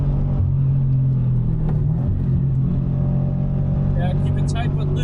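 Subaru BRZ track car engine pulling hard on throttle through a corner on a racing circuit, a loud steady in-cabin drone with a rising tone, an instructor talking over it.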